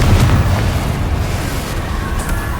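Bombarda spell explosion in the video game Hogwarts Legacy: a loud, dense rumbling blast that fills the whole clip and stays steady without fading.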